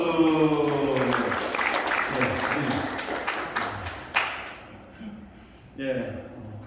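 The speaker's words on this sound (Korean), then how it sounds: "감사합니다. 박수." An audience at a talk for young people leaving care breaks into applause, a burst of many hands clapping that thins out and fades, with a voice speaking over it near the end.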